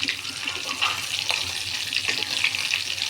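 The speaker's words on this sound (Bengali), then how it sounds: "এখন মাছগুলো দিয়ে ভেজে নেব।" Fish frying in hot oil, a bright steady hiss and crackle heard close up with small spattering pops scattered through, no talking.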